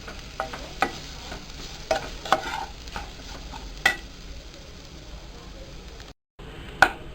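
A spoon working boiled, mashed potato with salt and spices into aloo paratha stuffing, giving repeated sharp knocks and scrapes against the pan at an irregular pace over a faint sizzling hiss.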